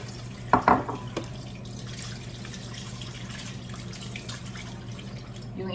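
Dishes get washed at a home kitchen sink in Saudi Arabia under a steadily running tap, with a few clinks of crockery near the start before the water settles into an even, close rush.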